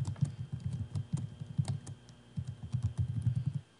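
Rapid typing on a computer keyboard, two bursts of close, clicky keystrokes separated by a short pause, with no talking.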